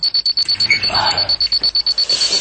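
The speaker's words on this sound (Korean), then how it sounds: "알람?" Alarm clock ringing in a radio drama, a steady run of rapid high electronic beeps pulsing throughout, close and fairly loud, with a faint voice underneath.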